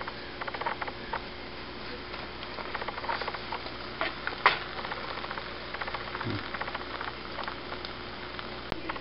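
Roti prata flatbread sizzles steadily in hot oil in a pan after being flipped, a continuous faint crackling patter with small spits and one sharper pop near the middle.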